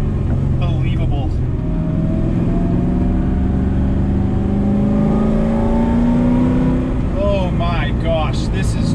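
A Mazda RX-7 with a swapped LS V8 engine revs and accelerates hard on a track, its pitch climbing then dropping between gear changes, while someone shouts and talks excitedly over it.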